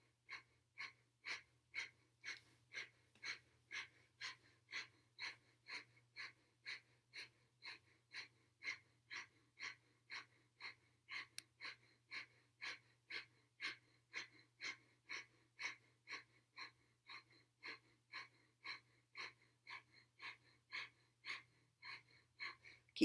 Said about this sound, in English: And then begin breath of fire here